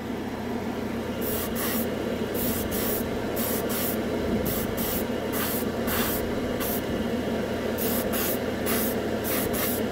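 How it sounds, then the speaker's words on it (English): An airbrush sprays undiluted Alclad candy paint straight from the jar in a steady close hiss, with short repeated bursts of stronger spray pulsing over it throughout. "Oh yeah, it's almost like spraying chrome."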